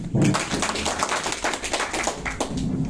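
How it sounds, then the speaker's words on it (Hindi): Applause at a business meeting in Naugachia, Bhagalpur: a crowd's steady, dense clapping for several seconds, moderately loud and even throughout. "एक बार सिस्टम के लिए जोरदार तालियां।"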